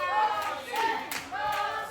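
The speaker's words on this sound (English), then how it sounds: "The crowd trying to rally behind Roxy" Crowd at a women's wrestling match in a convention center clapping to rally behind Roxy, with rhythmic claps mixed into a swell of voices and cheering.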